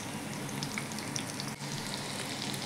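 Pieces of food, a stuffed ash gourd (chal kumra) preparation, frying in oil with a soft continuous sizzle and scattered pops, fairly quiet and close, with a brief handling bump midway.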